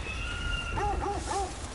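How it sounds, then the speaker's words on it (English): A dog whimpers in the God of War Ragnarok video game, three short wavering whines in a row over game ambience and a lingering high tone. "Is Fenrir one of my dogs here?"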